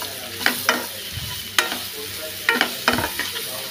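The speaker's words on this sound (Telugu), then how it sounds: "ఇవన్నీ బాగా మిక్స్ అయ్యే వరకు కలుపుతాము" Ginger garlic paste, turmeric and ponnaganti greens frying in a pan over a low sizzle, with several distinct scraping strokes of a spoon spread unevenly across the stretch.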